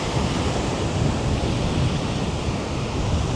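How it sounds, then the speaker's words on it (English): Heavy ocean surf crashes at high tide on a beach in Vietnam, a loud, continuous roar of breaking waves with wind buffeting the microphone throughout and no voices. "they've got some heavy surf happening right now"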